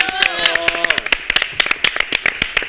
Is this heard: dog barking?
no